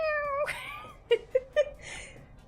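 A house cat meows several times in short, separate calls, one drawn-out cry followed by three quick clipped meows, fairly close and distinct against a quiet room.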